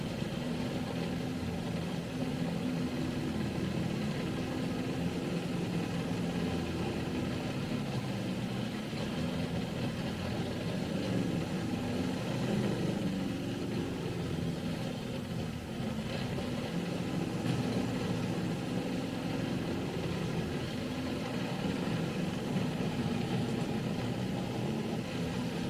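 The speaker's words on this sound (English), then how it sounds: "So much tank driving." A tank engine rumbles steadily while driving in War Thunder, a continuous low mechanical drone with a deep throb that holds at constant loudness throughout, with no voices over it.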